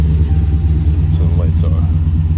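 A car engine runs at a steady idle, a loud, close, low rumble that holds even for the whole short stretch.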